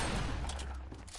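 Gunfire cracks in a shooter video game during a headshot, a short, dense burst of rapid shots heard close and loud, with no talking over it.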